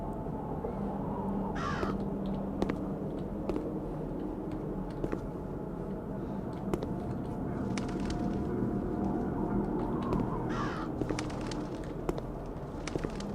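Crow cawing in the video game Root of Evil: The Tailor, a few sharp caws rising over a low ambient drone with faint clicks, no speech.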